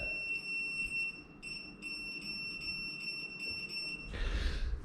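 An electrician's continuity tester sounds a series of short, high, clear beeps in an irregular rhythm, followed by a brief burst of rustling noise.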